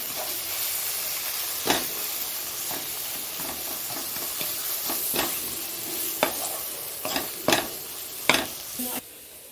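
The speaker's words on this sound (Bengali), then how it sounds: "এখন শুধু মশলাটাকে ভালো করে কষাবো।" Chili-powder spice paste frying over a low gas flame while a spoon stirs it in the pan, with a steady soft sizzle and hiss and periodic sharp scraping strokes, growing more frequent toward the end.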